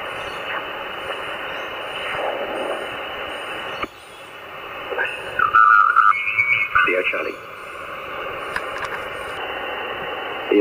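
HF mobile radio being tuned across the bands through a Chameleon V2L antenna on a spare-wheel mount of a Pajero, giving a steady hiss with brief squeals and warbling tones as the dial moves.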